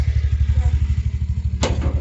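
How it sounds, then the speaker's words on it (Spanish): A motorcycle engine idles loud and close, a steady low throbbing pulse with a rattle of clatter, ending in a brief sharp knock. "Vamos nuevamente en la moto."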